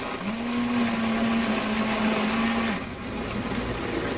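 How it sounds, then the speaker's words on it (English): A Vitamix blender runs at high speed blending strawberries, a loud steady motor whine with a sustained pitch that cuts off near the end, leaving a quieter background, no talking. "Now, if I was making this in a regular blender, I would have strawberry seeds in my final product."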